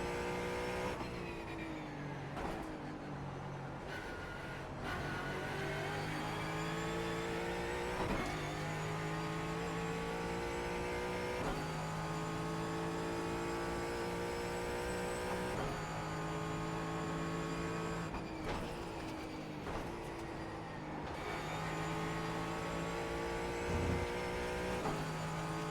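Ford Mustang GT4 race car in the iRacing sim at Brands Hatch, engine droning loud and continuous with repeated rising revs through the gears and brief drops at upshifts and braking, no talking.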